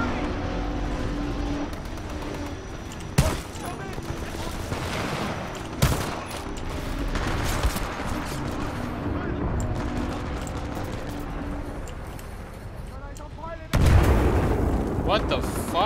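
Rapid automatic gunfire from a machine gun pistol in the first-person shooter Titanfall 2, bursts rattling continuously with a few sharp louder cracks and a blast near the end, over game effects and voices.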